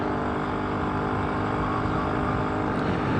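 A 3-speed BSA D7 Bantam motorcycle rattling along on the road, its engine a steady, continuous drone mixed with wind rush, loud and unbroken throughout.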